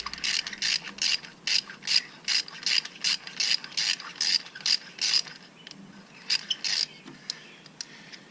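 A socket ratchet loosening a spark plug on a 2010-2012 Ford Transit Connect, a fast run of crisp evenly spaced clicks followed by a few slower clicks after a pause, close and clear with no talk.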